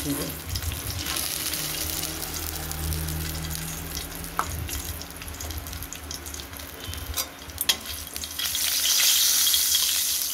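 Tempering spices of bay leaf, chili and black cumin sizzle in hot oil for a thin koi fish curry with potatoes, a continuous frying crackle with occasional utensil clicks and a louder hiss near the end.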